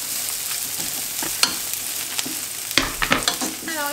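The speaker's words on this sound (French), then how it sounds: "on vient bien gratter du coup les sucs de cuisson qui sont collés à la poêle" Shallots fry in a pan with leftover fat while a utensil scrapes up the stuck cooking juices, a steady sizzle broken by several sharp scraping strokes near the end.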